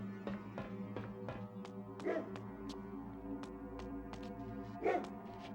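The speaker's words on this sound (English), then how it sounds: "Oh, I hear a doggy." Dog barking in the video game Legacy of Kain: Blood Omen 2, two muffled barks over a steady humming game soundtrack with repeated sharp clicks.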